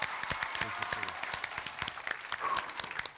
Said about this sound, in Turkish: Bir kere daha alkışlıyorum ben bu şahane aileyi.